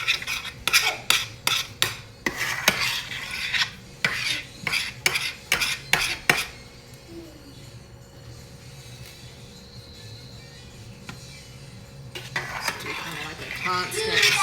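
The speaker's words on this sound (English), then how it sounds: "I want you guys to see kind of how you slowly stir it" Melting cheese is stirred slowly in a pot for macaroni: a close run of rhythmic metal scrapes against the pot, then a quieter stretch, then more scraping near the end.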